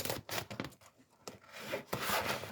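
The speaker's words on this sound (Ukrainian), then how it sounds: "Зараз візьмемо ножиці. Розріжемо та й подивимося." Scissors cut open a plastic-wrapped food package, giving close, uneven bursts of rustling and scraping with brief pauses between snips.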